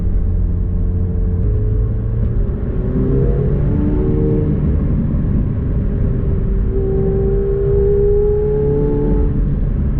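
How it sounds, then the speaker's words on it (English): A 2019 McLaren 720S with the stock optional sport exhaust, driving in track mode on bumpy roads, loud steady engine rumble with gliding rev changes as it accelerates and shifts. "So I have a sport exhaust system."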